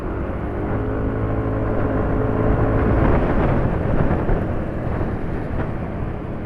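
A Honda Supra Fit X-New motorcycle engine rumbles steadily while braking and shifting down, a loud continuous low roar with wind noise and no clear gear changes standing out.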